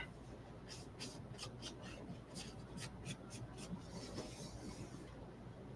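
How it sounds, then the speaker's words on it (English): Quiet, rhythmic rasping strokes of sandpaper rubbing against the wood edges of a porch leaner sign, repeated in short bursts, close by and without speech. "by sanding off the edges"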